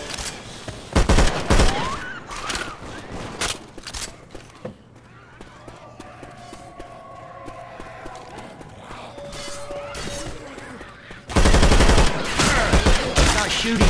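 Gunfire in the zombie shooter Left 4 Dead 2 comes in rapid bursts at the start and a heavy, dense volley at the end, with quieter action sounds and a tonal hum in between.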